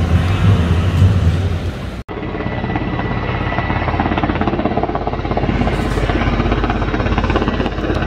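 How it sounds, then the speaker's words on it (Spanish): A helicopter flies overhead at an outdoor event, its rotor chop loud and continuous, with a brief dropout partway through before the steady thumping resumes. "hasta un helicóptero vino al evento"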